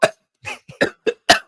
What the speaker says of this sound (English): I just had, just a quick little cough.